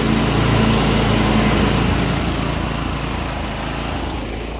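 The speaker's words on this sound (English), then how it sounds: "that mower deck seems to be working good" A Sears Suburban 6HP diesel lawn mower runs with its mower deck engaged: a loud, close, continuous engine drone with a dense high whine that holds steady and eases off slightly toward the end.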